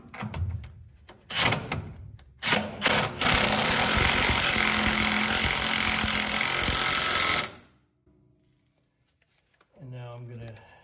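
Tool tightening a bolt on coilover suspension of a 1968 Mustang, heard as loud rapid rattling bursts that run steadily for several seconds, then stop abruptly, followed by quieter handling noises nearby.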